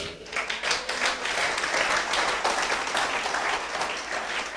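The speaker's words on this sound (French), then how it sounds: "Est-ce qu'on peut applaudir le Seigneur?" Church congregation applauding the Lord during an evangelism service, a dense, steady wash of clapping from many hands that fills the room for several seconds without a break.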